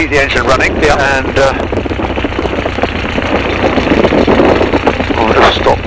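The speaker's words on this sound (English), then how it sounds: "So I think we're going to keep the engine running," A Tiger Moth biplane engine idles on the ground after a flight, a steady low rumbling with a faint knocking pulse running under a voice throughout.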